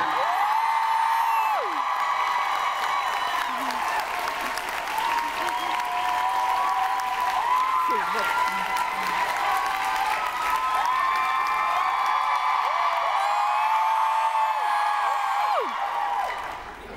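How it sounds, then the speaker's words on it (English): Audience applause with cheers and whoops fills a closing ceremony hall, steady and loud for about sixteen seconds, while an announcer's amplified voice rises through it now and then before the clapping fades at the end. "And I think that deserves a cheer"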